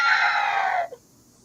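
A high-pitched, shrieking cry of the shrieking eels, one sustained screech that cuts off abruptly after under a second, loud and alone.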